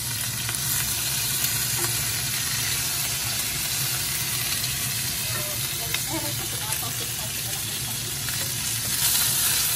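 Chicken browning in a pan for a vegetable-laden chicken curry, giving a steady close sizzle and hiss of frying throughout, with occasional light stirring clinks and no talk.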